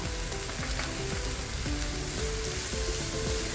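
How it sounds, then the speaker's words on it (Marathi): Vegetables stir-fried in a pan over a high gas flame give a steady, close sizzle and crackle, with faint scraping from stirring, and no talk. "आपल्याला या भाज्या शिजवायच्या नाही आहेत, नुसत्या अशा परतून घ्यायच्या"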